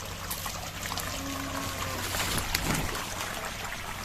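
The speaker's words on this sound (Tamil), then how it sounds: "தண்ணி குபு குபு குபு ஃபுல்லாக வருது." Water gushes from a holed irrigation pipe on a village farm, a steady rushing and trickling flow that continues throughout with no pause.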